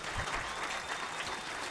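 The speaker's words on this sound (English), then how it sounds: "give that man a round of applause" A live hip hop event crowd applauding, dense steady clapping that fills the short moment at a constant level, close and loud.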